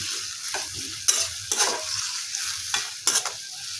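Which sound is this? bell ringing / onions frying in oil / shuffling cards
onions frying in oil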